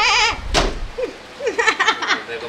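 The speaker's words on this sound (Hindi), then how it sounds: "बकरी बोली।" A goat bleats loudly at close range, a wavering nasal cry followed by shorter bleats and bumps, in a high-rise home during a rainstorm.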